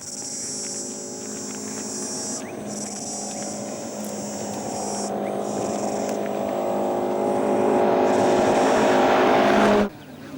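Rally cars race in the 2005 East African Safari Classic, including the Kaya brothers' car running at speed despite major engine problems; a sustained engine roar builds steadily in loudness before cutting off abruptly near the end.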